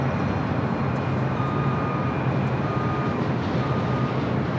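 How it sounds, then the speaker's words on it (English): A Boeing 787 Dreamliner takes off from runway 25 right at LAX, a steady broad jet roar with a faint whine, holding even and fairly distant throughout. "the Dreamliner cleared for takeoff on 25 right"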